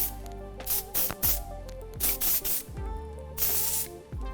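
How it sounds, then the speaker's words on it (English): Bursts of Unite Texture Spray hiss onto hair in several short, close blasts with brief gaps, loud and clear with music underneath. "with the Unite Texture Spray."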